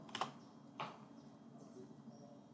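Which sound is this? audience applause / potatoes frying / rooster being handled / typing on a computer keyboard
typing on a computer keyboard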